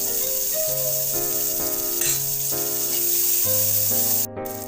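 Bay leaf and onion hit hot oil in a pan for a traditional Assamese fish roe and tenga mora sour curry, giving a loud, steady sizzle that runs through the whole stretch with no talking.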